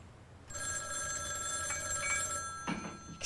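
Telephone ringing indoors, a bright sustained trilling bell that starts abruptly and continues steadily at moderate volume, with a faint clatter near the end and no speech.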